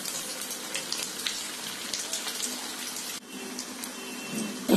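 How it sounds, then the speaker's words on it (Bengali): Chicken kababs sizzling in hot oil in a pan, a continuous crackling hiss with a brief dip partway through before resuming. "এখন এগুলি আমি ভেজে নিব।"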